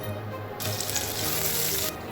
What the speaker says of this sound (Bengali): তেলে একটা পেঁয়াজ দিয়ে দিলাম।